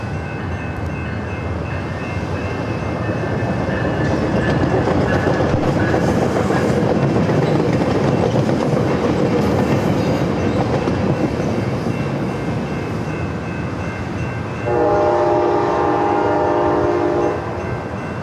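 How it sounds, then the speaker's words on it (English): A train rolls past near San Diego airport, a loud steady rumble and rail clatter lasting throughout, with a horn blast sounding toward the end. "You'll have some train action here in just moments away."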